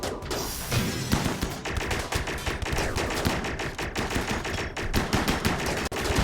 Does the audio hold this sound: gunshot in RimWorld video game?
yes